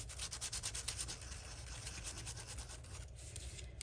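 An emery board nail file rubs briskly over the raised edges of cardstock, a close, faint, rhythmic scratchy sanding that runs continuously in quick strokes.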